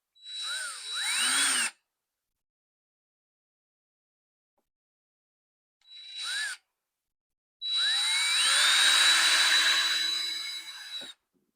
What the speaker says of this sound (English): I'm gonna try and drill this hole out to accept this screw.